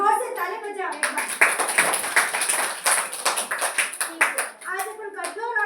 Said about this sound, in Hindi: जोर से ताली बजाओ एक बार।